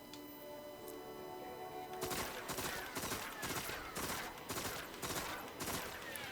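Repeated bursts of automatic weapon fire in a video game recoil test with Counterbalance and Braced Frame, loud short volleys roughly every half second after a quiet opening, with no talking.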